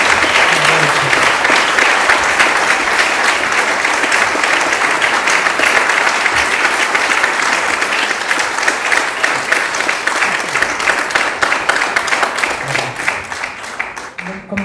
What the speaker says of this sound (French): Alors je vous demande encore une fois d'applaudir.